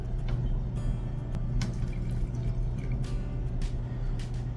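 Warm water pours steadily into a bowl of all-purpose flour for pizza dough, a continuous close splashing trickle with a few sharp drips and clinks and no talking.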